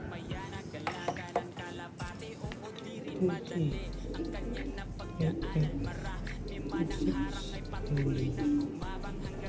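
A pet pigeon coos in soft, low repeated calls close by, with people talking over it and light clinks in the background.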